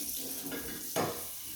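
Tap water runs into a container in a kitchen while baking a lemon blueberry tart, with a short, close gush of flow. Faint clinks of dishes sit underneath, and no one talks.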